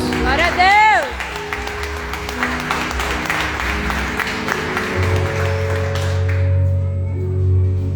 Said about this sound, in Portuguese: Vamos receber o nosso pastor Luiz com uma salva de palmas